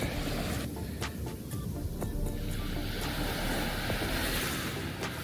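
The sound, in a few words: ocean waves and wind on a windy surf beach, Mauritius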